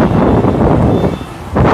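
Strong, dusty wind blowing outdoors beside a used car lot, a steady loud broadband rush with gusts that swell, dip briefly near the end, then surge again; no talking.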